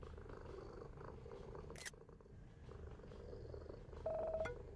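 A cat in the video game What Comes After purrs steadily and softly while being petted, a low continuous rumble with a brief click partway through, with no talking.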